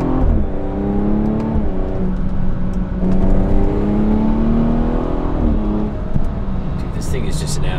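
BMW F30 340i with a B58 engine accelerating, a loud cabin drone whose pitch climbs through the gears in rising sweeps with brief drops between shifts, while people talk over it.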